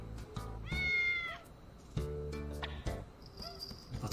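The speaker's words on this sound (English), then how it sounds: "Hey, how'd you get in here, little kitty cat?" Cat meowing in the video game Digital Devil Saga, several clear close meows with rising and falling pitch, separated by short pauses, over a faint quiet background.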